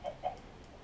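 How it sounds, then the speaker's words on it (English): Minecraft chickens, two short soft clucks close together, faint and alone. "Chickens are so annoying."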